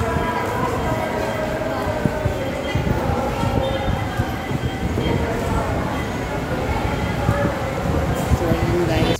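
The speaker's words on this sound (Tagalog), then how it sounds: "Pupunta na kami dito sa MRT." A metro train rides the MRT rails with a dense, continuous rumble and irregular clicks from the wheels. It is loud and close, as if heard from on board.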